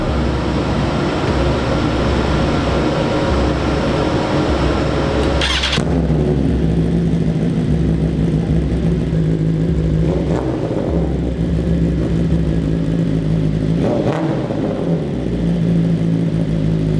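A motorcycle engine with an aftermarket exhaust rumbles steadily at idle after a cold start, with a couple of brief revs or clunks partway through; loud, close, and continuous with no talking.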